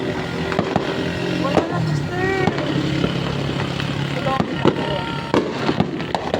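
New Year fireworks and firecrackers go off nearby and in the distance: repeated sharp bangs and crackles, rising whistles, and an uneven rhythm of blasts, with people talking throughout.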